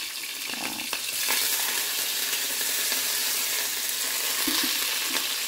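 Green chillies dropped into hot oil for a tempering with dried red chillies already in the pan, a bright continuous sizzle with a few stirring clinks and pops, close and alone.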